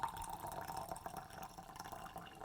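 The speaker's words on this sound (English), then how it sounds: "pour it into a pitcher." Faint trickling and splashing of hot water being poured into a pitcher to cool it for steeping Gyokuro green tea, soft and continuous for a couple of seconds.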